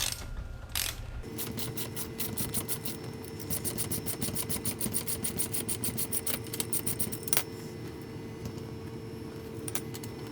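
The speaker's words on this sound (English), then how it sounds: "So we're going to unbolt this now." Rapid ratchet clicking runs steadily up close as a seat bolt is undone on a P71 Crown Victoria Police Interceptor, preceded by a couple of short knocks and a low hum.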